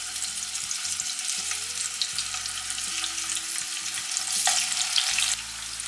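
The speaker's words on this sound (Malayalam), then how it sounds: "ഇനി നമ്മൾ മാരിനേറ്റ് ചെയ്ത് വെച്ചിട്ടുള്ള ഫിഷ് ഫ്രൈ ചെയ്യാൻ പോവാണ്." Marinated fish pieces fry in hot coconut oil for a special fish curry, a continuous strong sizzle and crackle with faint stirring clicks underneath and a brief louder surge near the end, no voices.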